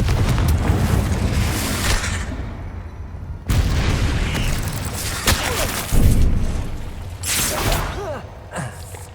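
Confringo explosive spell blasts in Hogwarts Legacy, several heavy booms spaced a couple of seconds apart, each with a sharp crack and rumbling tail amid battle noise.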